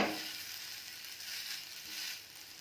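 Bottle gourd roti made with grated gourd, village style, sizzles on a hot pan, a steady broad hiss with slight swells, close and alone.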